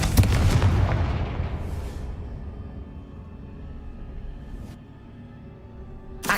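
A Confringo blasting spell in the game Hogwarts Legacy sets off a loud, booming explosion that fades into a long rumbling tail, followed by smaller crackling bursts near the end.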